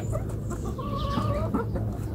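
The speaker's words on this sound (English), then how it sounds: "these are the noises you can expect to hear from your flock" A calm, contented flock of laying hens clucking softly, overlapping low murmurs and a few drawn-out melodic calls, close and steady with a faint background hum.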